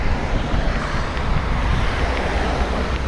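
Strong wind gusting across the open chalk hills of the South Downs, a loud steady roar buffeting the microphone with low rumbling throughout and no speech.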